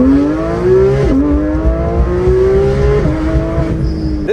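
A Porsche 991.2 GT3 RS flat-six engine revs hard and loud from inside the car, climbing through long high-pitched pulls with brief dips at each gear change.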